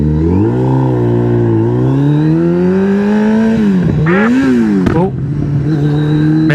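A motorcycle fitted with a GP shift pattern rides along with a loud, close engine drone whose pitch climbs and dips. A missed gear shift follows as a sudden revving flare and clatter, then the engine settles again.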